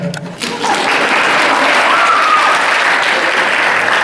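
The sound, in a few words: audience applause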